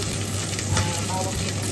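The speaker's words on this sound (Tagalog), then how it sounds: "Pa-brown-brownin natin muna yung ating baboy." Pork browning in a pan for pinakbet with squash, a loud, close, continuous sizzle with faint stirring.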